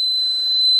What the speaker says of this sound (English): So that is the low voltage alarm on the inverter.